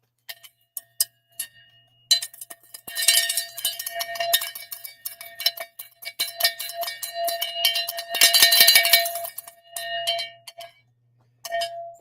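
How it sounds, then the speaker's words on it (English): A handheld cowbell, used as a noise maker, is struck repeatedly in quick irregular bursts, loud and close, with clanking metallic rings and brief pauses between flurries. "No, it's a cowbell."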